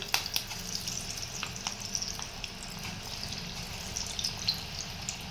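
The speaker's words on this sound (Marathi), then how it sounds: "अशा पद्धतीने कढईमध्ये मावतील तेवढे आपल्याला यामध्ये भजे सोडून घ्यायचे आहेत" Moong dal fritters dropped into hot oil in a kadhai, giving a soft steady sizzle with scattered pops and crackles, fairly quiet and heard alone.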